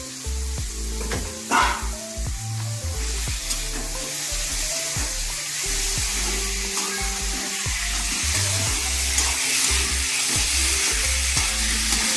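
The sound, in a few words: onion and chicken frying in a pan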